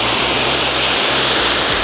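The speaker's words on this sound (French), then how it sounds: "nous avons une toute petite cascade" A small waterfall of about three and a half metres drops in a forest valley, giving a steady, broadband rush of falling water that stays constant and fairly loud from start to finish with no voices.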